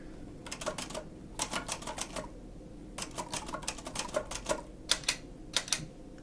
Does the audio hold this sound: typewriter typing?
yes